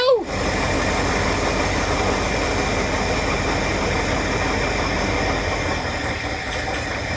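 A three-cylinder truck engine runs at a steady idle, a loud, constant rumble that holds unchanged from start to finish with no voices over it.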